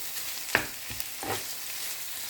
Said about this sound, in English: Keep on stirring for 2 minutes or until the minced pork is cooked.